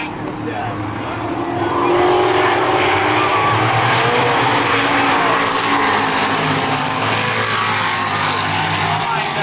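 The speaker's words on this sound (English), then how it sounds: "You see a little bit of a RPM change that you hear on these cars" Loud stock car engines roar and rev as they pass on a track coming off turn four onto the front stretch, a dense continuous drone with shifting pitch, with a commentator talking over it.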